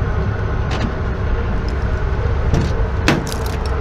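Keys jangle in short, bright bursts inside a vehicle that has just pulled up on a road trip, riding over a loud, steady engine rumble.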